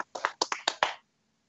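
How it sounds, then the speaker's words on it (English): Hands clap about five times in a quick, even burst lasting roughly one second, fairly close and distinct, then it goes quiet. No one speaks. "Who's clapping?"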